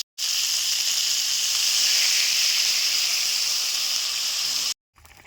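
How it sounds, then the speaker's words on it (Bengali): A potato curry with salt and turmeric, just topped up with water in a pan, gives off a loud, steady sizzling hiss for about four and a half seconds, starting and stopping abruptly. "তরকারিতে জল দিয়ে দিছি তরকারি এখন ফুটতে আরম্ভ করছে"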